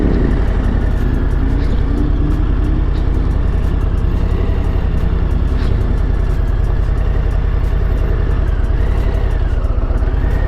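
A 2023 Harley-Davidson Low Rider ST motorcycle riding at low speed, its engine a loud, steady, close rumble with continuous wind and road noise throughout.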